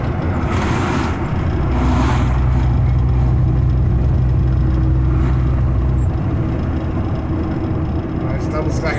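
A loaded truck's engine drones steadily on the BR-116 Rio Bahia highway, a loud continuous low rumble with wind noise filling the whole stretch.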